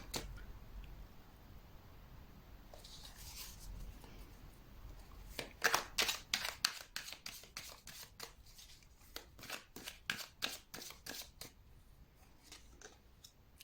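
Tarot or oracle cards being shuffled and handled during a card reading, a close, crisp run of rapid riffling snaps and flicks that starts soft and grows busier, with no talking.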